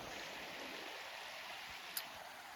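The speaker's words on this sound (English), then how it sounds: "This river is so quaint" A small river flows steadily nearby, a constant rushing wash of water with one brief faint click partway through.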